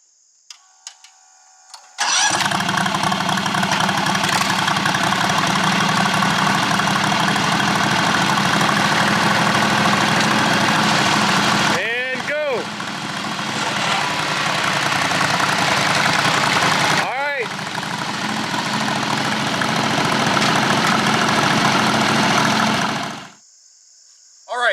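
Riding lawn mower engines idling outdoors before a mud tug of war, a loud steady drone that starts abruptly, holds evenly with brief dips, then cuts off near the end.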